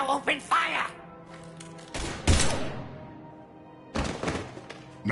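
Gunfire in the Mass Effect video game, a loud burst of rapid shots and thuds in the middle of the clip, with game characters talking before and after it.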